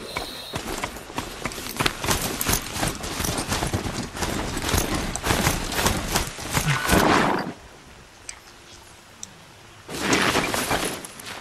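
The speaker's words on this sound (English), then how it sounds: "I have my own horse." A horse's rapid hoofbeats gallop in Horizon Zero Dawn in a dense, rhythmic clatter, pause briefly into a quiet hum, then resume in a short burst.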